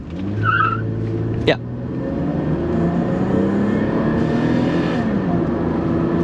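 A 2003 Toyota Avalon accelerates hard from a stop, heard from inside the cabin as a steady, rising engine drone with a brief sharp chirp early on, while a voice speaks briefly.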